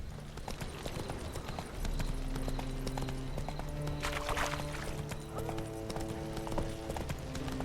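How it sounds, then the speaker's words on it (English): Horse hooves clip-clop at a steady galloping rhythm in The Witcher video game, fairly close, with a brief whinny and a game voice speaking over an ambient backdrop. "Run, Roach."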